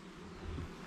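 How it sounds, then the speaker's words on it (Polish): Honey bees buzzing around an open hive during a beekeeper's inspection, a steady, dense low drone that holds evenly throughout, close and moderately loud, with no voices. "Tu już widzimy od razu pszczoły."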